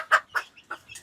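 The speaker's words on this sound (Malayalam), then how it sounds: "ഇതിന്റെ പൂവനാണിത്." A short-statured fancy native rooster gives four quick, close clucks in separate bursts, each brief and fairly loud with short pauses between them. No one speaks.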